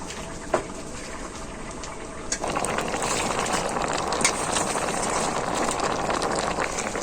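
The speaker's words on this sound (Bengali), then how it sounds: "ঝোলটা খুব ভালোভাবে ফুটে গেছে" Shrimp curry broth with spinach at a steady boil in a pot, a continuous bubbling, hissing wash that swells louder after a couple of seconds, with a few small clinks on top and no one talking.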